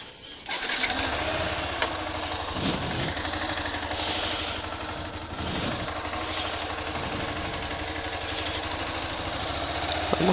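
A motorcycle engine idles steadily and close by with a continuous low, buzzy rumble and some faint mechanical rattle, the tone holding even throughout with no clear revving.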